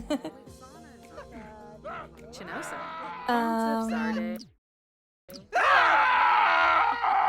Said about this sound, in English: I don't know why they are screaming